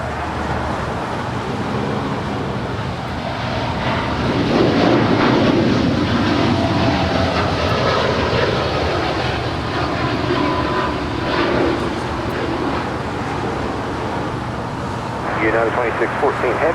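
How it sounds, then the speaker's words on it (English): A United Boeing 787-10 jet departs from LAX, its engine roar building to a broad steady rumble that swells and lingers, heard from a distance with people talking over it. "That is United 2614 departing to Newark Liberty on a 787-10"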